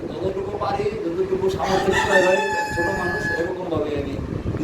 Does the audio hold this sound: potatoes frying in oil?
no